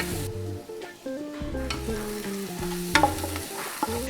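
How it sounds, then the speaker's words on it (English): Mirepoix vegetables sweat in a pot for beef ragout, with soft continuous sizzling under occasional spoon scrapes and stirring clinks, close and fairly quiet. "Now, into the same pot, we're adding in the mirepoix. Sweat those veggies until they're nice and softened."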